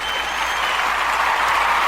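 Dense, continuous audience applause fills the room at a steady loud level, a crowd cheering a performer at a music show finale, with no one talking over it.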